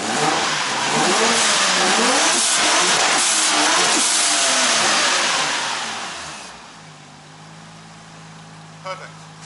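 A Nissan RB25DET engine revs loudly with rising and falling pitch for several seconds, then drops to a low steady idle.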